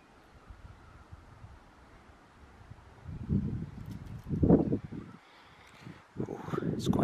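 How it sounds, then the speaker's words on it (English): Wind buffets the microphone in low rumbling gusts in a garden, growing stronger midway and again at the end, with faint outdoor noise and some talk. "it's quite windy this morning, as you can probably hear"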